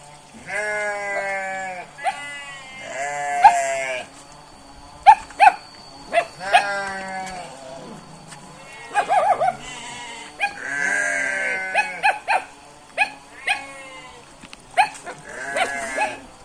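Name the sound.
goats bleating in a village pen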